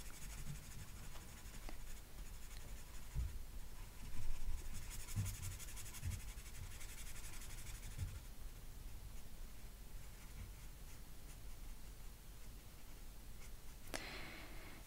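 Alcohol marker coloring a mystery coloring page, soft scratchy strokes of the felt tip on paper with brief pauses, faint and close over a quiet room hiss.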